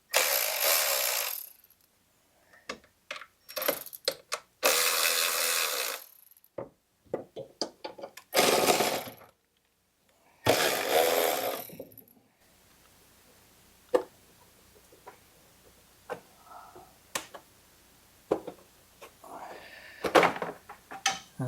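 Four 10 mm bolts loosened on a Toro mower's Kawasaki engine: close, loud bursts of ratcheting wrench clicks in several runs, followed by quieter isolated ticks and small metallic knocks.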